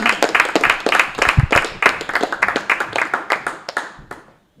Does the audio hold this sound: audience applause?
yes